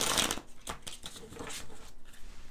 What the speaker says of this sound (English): We're going to pull 3 more cards.